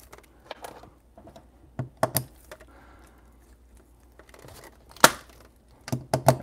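Crinkly foil wrapping of a Pokémon trading card pack is torn and crumpled in short bursts, with several sharp ripping sounds and brief pauses between them, close and alone.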